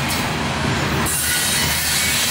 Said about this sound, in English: Never thought I'd see another train using the side track